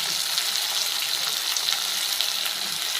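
Potatoes frying in a pan with chili powder and turmeric, stirred as they cook, make a close, steady sizzle with faint scraping and no talking.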